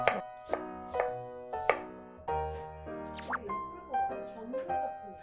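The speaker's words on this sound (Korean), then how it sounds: "양파도 조금 이렇게 채 썰어서," A knife slices an onion into thin strips on a cutting board with several crisp, regular chops close by, followed by quicker, softer cuts, while a voice carries on underneath.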